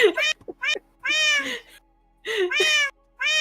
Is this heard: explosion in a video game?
no